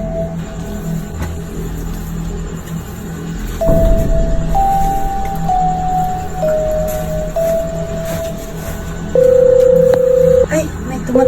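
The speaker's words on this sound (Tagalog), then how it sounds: "Ay, may tumatawag." A telephone rings for an incoming call, giving a loud electronic tone that steps through several pitches over a few seconds, then a longer held tone, above a steady background hum.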